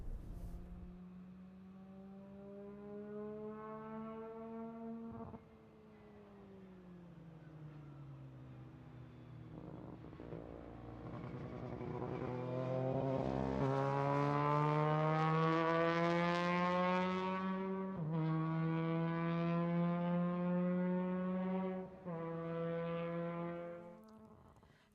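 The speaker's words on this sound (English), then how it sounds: "This is a formula car. It can go very fast." A formula race car with a rotary engine drones and revs in a smooth rising and falling whine, climbing in pitch as it accelerates and then easing off, fairly distant and alone without talk.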